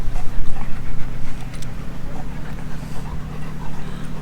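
Dogs pant heavily and rhythmically on a slippery marble floor, close and loud, with a steady low hum underneath.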